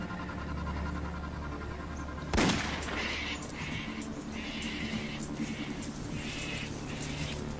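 A single loud rifle shot cracks out on a farm partway through, set against a steady outdoor background with faint chirping afterward.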